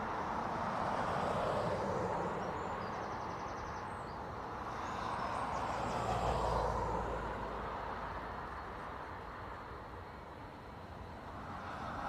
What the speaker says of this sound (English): Ryanair to Pisa is slowly making its way down to take off.